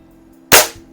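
A Feinwerkbau 124 air rifle fires a pellet, giving one sharp, fairly loud crack with a short decaying tail against a low background hum.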